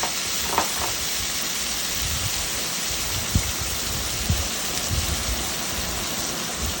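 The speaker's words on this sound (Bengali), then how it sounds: "কড়াইতে তেলের মধ্যে অল্প জিরে দিয়ে দিতে হবে টমেটো পিউরেটা" Tomato puree from four tomatoes sizzles in hot oil with cumin in a wok, a steady, loud hiss carrying a few soft clinks and stirring bumps, with no voices.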